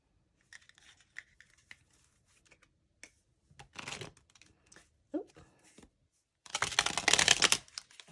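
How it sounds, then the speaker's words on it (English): Tarot cards, press-on nails in use, shuffled in short riffling bursts, with a long loud shuffle near the end, close and clear with quiet gaps between. "But let's get into the shuffling."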